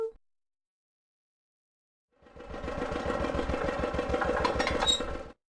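A cartoon tractor engine from a preschool educational game hums and putters steadily for about three seconds after a pause of near silence, then cuts off abruptly.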